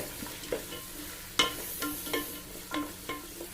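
Vegetables sautéing in hot coconut oil, a soft continuous sizzle punctuated by several close spoon scrapes and taps against the pan at an uneven pace, with no voices.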